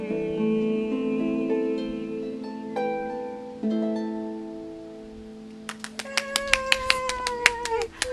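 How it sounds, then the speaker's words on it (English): A voice holds long sustained tones, then a string of scattered, crisp hand claps follows in a loose, irregular rhythm. "I can hear claps all around the country"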